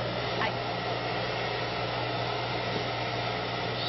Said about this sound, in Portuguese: vamos para o próximo barulho, é o secador de cabelo.